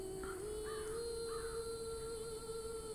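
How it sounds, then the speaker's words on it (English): A crow caws a few times in the Bloodlust ShadowHunter video game, heard over a steady droning game ambience with a sustained tone running underneath. "A crow!"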